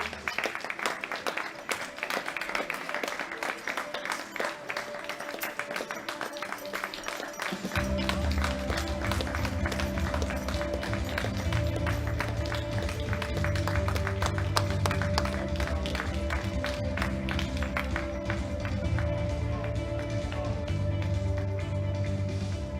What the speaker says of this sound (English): please join me in giving these fantastic ladies a round of applause